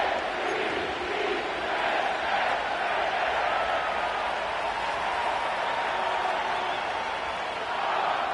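Stadium crowd noise from an NFL broadcast in the Madden 25 football video game, set at M&T Bank Stadium in Baltimore, Maryland: a dense, steady roar of cheering fans holding at an even level throughout, with no talk over it.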